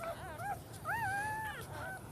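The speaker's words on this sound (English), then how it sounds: "very concerned when her puppies are making noises" Young puppies whimper and whine nearby, with several thin, rising and wavering high cries in short bursts and one longer sustained whine, over a quiet room background.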